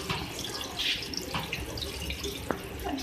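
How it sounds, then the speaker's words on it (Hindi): Two glasses of water are poured into a beef and ridge gourd (turai) handi that already holds oil, giving a steady, close splashing pour with a sharp click near the end. "अब इसके अंदर मैं इसमें ऐड करूँगी पानी 2 गिलास।"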